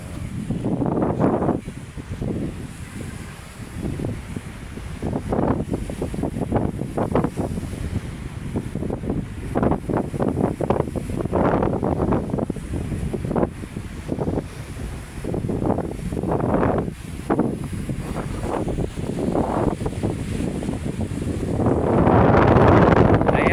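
Wind buffets the microphone at the seaside on Manila Bay, with waves washing in steadily beneath it. The gusts come in repeated bursts, and the wind grows stronger near the end.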